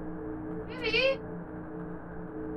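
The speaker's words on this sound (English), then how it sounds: "Hi, creepy kitty." A cat in a horror video game lets out a single short, rising meow, heard close over a steady low droning ambience.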